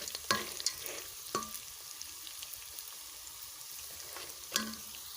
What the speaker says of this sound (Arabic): انا هشوح فيها لغاية لما تديني اللون الذهبي اللي انتوا عارفينه، والبطاطس برضو تاخد تسوية معايا